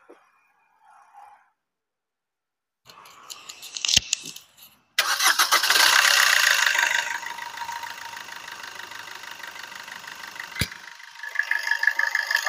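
A 2018 Maruti Vitara Brezza ZDI Plus diesel engine cranks and catches after a few faint clicks, roaring up loudly before settling into a steady, slightly clattering idle close by.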